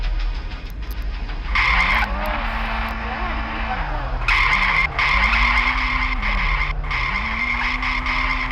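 A car in the Ice Scream 1 video game drives with a steady engine drone that rises and dips, its tires squealing in long loud skids over the motor.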